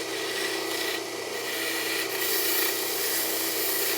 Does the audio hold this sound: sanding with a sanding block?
yes